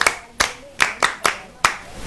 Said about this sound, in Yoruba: ó gbà ẹ pàtẹ́wọ́ fún un.